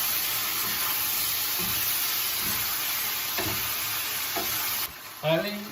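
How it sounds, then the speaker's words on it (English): Steak strips stir-fry in a wok as sauce is mixed in, making a loud, constant sizzle marked by a few scraping strokes of the spatula. Near the end the sizzle drops off suddenly, followed by a brief clatter. "Now you just mix them together and then add your sauce."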